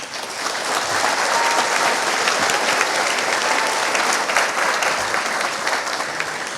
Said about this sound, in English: Applaud them for a job well done.